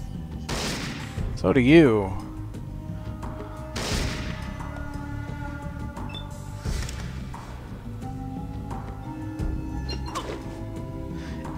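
Gunshots ring out during turn-based combat in Fallout 2, with a few separate sharp cracks spaced seconds apart under a quiet game backdrop while someone talks.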